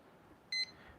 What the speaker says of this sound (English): I'm setting the timer now